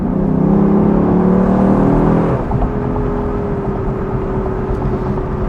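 A Lexus LC 500 convertible's V8 revs hard, with a loud steady engine drone that drops abruptly partway through as if easing off or shifting, then settles into a lower, smoother whir.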